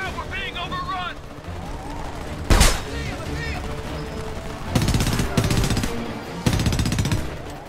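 Bursts of gunfire in the shooter game Homefront, with rapid automatic volleys and a sharp heavy blast, loud and close amid continuous battle noise.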